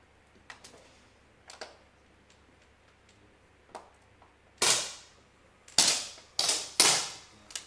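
Four sharp, loud rifle shots ring out at uneven intervals, each with a quick decay, following a few faint ticks and clicks in a quiet room, during a junior 60-shot prone rifle final in Zielona Góra.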